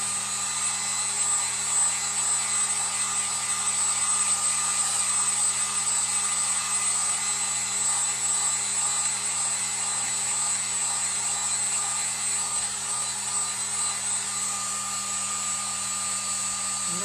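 A small hair dryer with two heat settings, set on low, runs continuously to dry craft resin, a steady close whirring hum with a high whine and no break.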